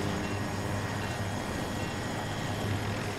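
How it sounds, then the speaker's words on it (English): A helicopter in the video game Battlefield 2042 approaches with a steady, fairly quiet rotor and engine drone filling the whole stretch, with no talking. "there's a heli coming"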